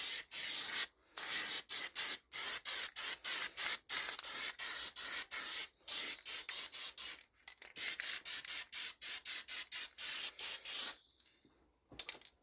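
Short repeated bursts of aerosol black primer misted in a light coat onto a vintage mini tractor, a steady hissing spray broken by brief pauses, close and loud with no talking.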